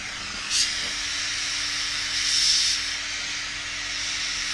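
Gas torch flame heating steel for flame hardening, a steady close roaring hiss that holds throughout and swells briefly twice, with no talk.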